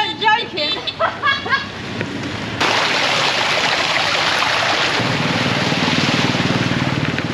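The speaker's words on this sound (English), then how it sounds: "we told you it was raining" Heavy rain pours steadily in Hoi An, Vietnam, during the low season amid flooding. A loud, unbroken hiss fills the scene after a few seconds of people talking at the start.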